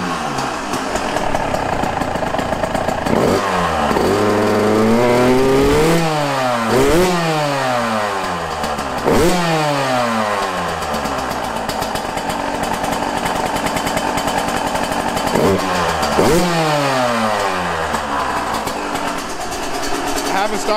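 A Yamaha YZ125 two-stroke dirt bike engine runs in a garage, repeatedly revving up sharply and dropping back to a rough, buzzy idle, loud and close, with a voice talking over it.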